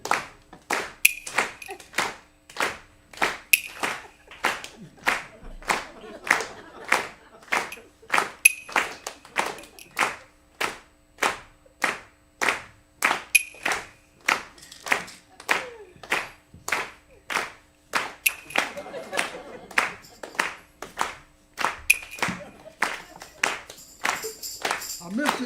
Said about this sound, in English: Now let's clap again.